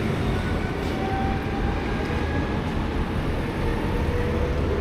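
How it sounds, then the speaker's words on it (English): A double-decker train rumbles past on a street in Sundbyberg, Sweden, a steady loud broadband roar of wheels and rails with faint squeals, continuous and fairly close, with no talk. "There is another train, double-decker train,"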